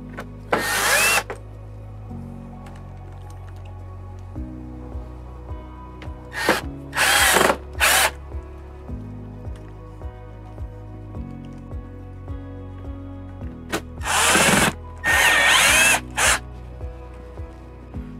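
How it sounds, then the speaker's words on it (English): A power drill drives screws into an RV air-conditioner silencer on a Coleman-Mach unit, with loud bursts of whirring spin repeated in pairs and separated by short quiet pauses, close by. "Now we can go ahead and we can get these other screws in."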